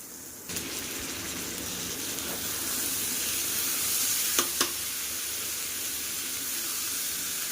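Soaked rice frying with spice masala in a pan for egg biryani: a steady, close sizzle begins after half a second and hisses on throughout, with a couple of sharp spatula clicks near the middle and no talking.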